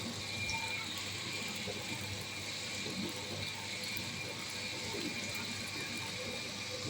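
A wet grinder grinds soaked lentils with water, churning steadily with a continuous watery, grinding rumble and faint ratcheting clicks, close and unbroken throughout.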